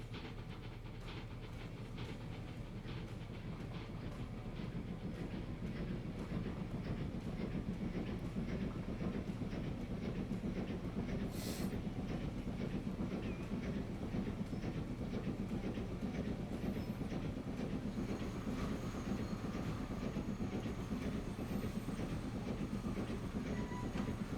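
Train running in the video game Transport Fever 2 on a UK line, a steady rolling rumble with regular clickety-clack and a faint hiss, continuous and moderately quiet, with no talk.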